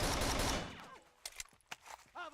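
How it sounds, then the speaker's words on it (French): Gunfire in the video game Rainbow Six Vegas 2 during co-op play, a loud dense burst of shots at the start fading into scattered sharp reports and game effects. "On me tire dessus."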